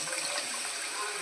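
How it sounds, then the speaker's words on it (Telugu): Tamarind juice poured into a hot pan of fried spices for an okra curry, a brief soft splashing pour heard alone at low level. "వేగిపోయిన తర్వాత ఇలాగా ఈ చింతపండు రసాన్ని వేసుకోవాలా."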